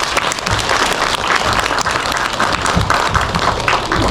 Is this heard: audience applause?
yes